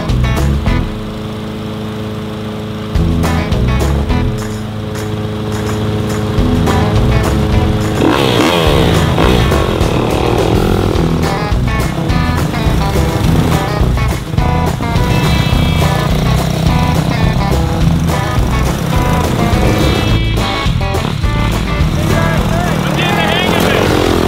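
A dirt bike pulling a lawn mower across a yard roars loudly and steadily, its engine pitch rising and falling with revs, the mower's drone blended in, continuous and close throughout.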